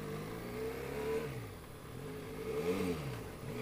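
A Benelli Leoncino 500 motorcycle engine pulling up through its revs while ridden, a smooth rising then easing mid-pitched drone heard from the bike over wind noise, no talk.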